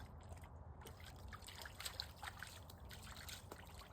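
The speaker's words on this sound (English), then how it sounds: "We found a small little stream, just a tiny bit of water here in the cedars." A tiny stream of water trickles through a cedar forest, a faint, steady babble with small drips, heard close and alone.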